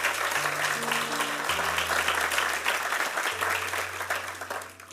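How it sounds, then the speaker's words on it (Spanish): A church congregation applauds in a dense, sustained wash of clapping while low held organ or keyboard notes shift underneath, fading toward the end. "Denle un aplauso al Señor por eso"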